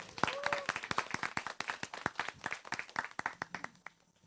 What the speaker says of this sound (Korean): 응원의 박수 쳐주시기 바랍니다